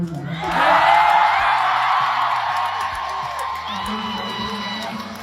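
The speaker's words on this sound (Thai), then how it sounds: "ขอเสียงปรบมือให้คุณเบล่า" A concert crowd cheers and applauds for Bella at a grand opening during a show, giving a sustained, dense roar of whoops and clapping while a voice talks over it.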